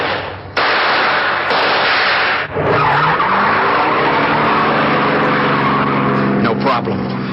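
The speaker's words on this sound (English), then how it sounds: "I shoved that getaway car into gear and took off." A getaway car peels out in a radio drama, tires squealing loudly as the engine revs and rises in pitch, with a sharp burst of screeching continuing over the roar for several seconds.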